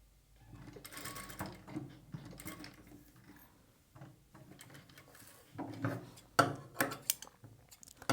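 A sewing machine stitches frills onto a sleeve in short, uneven runs. The close mechanical whirring is fairly quiet, stops and starts often, and is mixed with light handling clicks and rustles.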